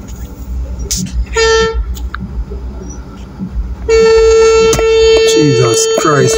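A bus horn honks: a short blast, then a long sustained blare at close range. Voices and street noise sound around it.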